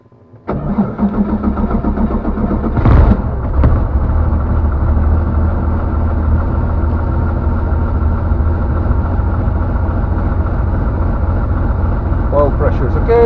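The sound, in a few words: light aircraft PH-MNX engine starting and running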